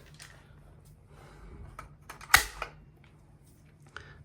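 A few sharp mechanical clicks from automatic transfer switches, one louder snap in the middle followed by a softer click, over a low electrical hum in a quiet room.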